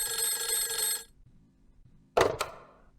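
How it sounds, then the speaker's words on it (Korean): A phone rings for a call with a bright electronic trill that stops after about a second, followed by a short quiet hiss and then a sharp clack like the handset being picked up. "12시 7분 윤석열 대통령은 자신의 휴대전화로 이종섭 장관에게 첫 전화를 겁니다."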